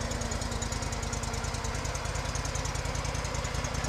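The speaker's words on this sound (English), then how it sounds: "Kohler gas engine." Kohler gas engine on a 2010 Terramite T5C tractor runs at a steady throb, a loud close rhythmic chugging with a constant mechanical rattle and no voices.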